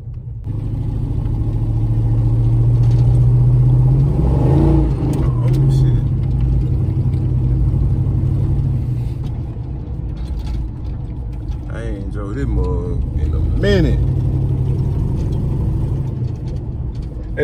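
A car engine hums loudly and steadily under way, swelling at times as it revs while people talk inside the car.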